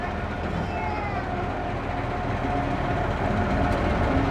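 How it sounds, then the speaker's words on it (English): Train on a mine tour at an abandoned gold mining town pulls out of the station, a steady rumbling roll with faint squeals of wheels, gradually building in loudness. "Pulling out of the station."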